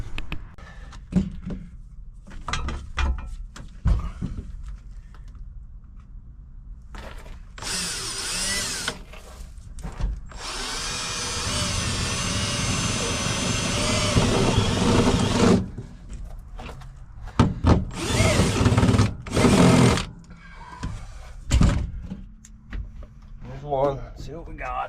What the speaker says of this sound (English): so let's drill a hole and see what we got.